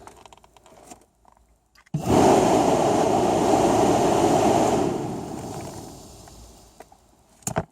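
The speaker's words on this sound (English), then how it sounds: "Fan works fine." Electric radiator cooling fan on a Volvo XC90, switched on suddenly and whirring loud and steady for about three seconds before winding down, heard up close with no talking.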